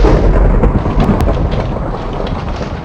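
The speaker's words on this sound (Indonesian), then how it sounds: "Petir menyambar di mana saja di dekatnya" Lightning strike and thunder in Minecraft, a loud close rumbling crash with crackling rain-like noise that slowly fades.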